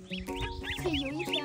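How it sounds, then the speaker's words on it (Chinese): Ducklings and goslings peep close by, a run of high, repeated chirps with a few lower honking notes mixed in over a steady background hum. "小鸭子和小鹅。"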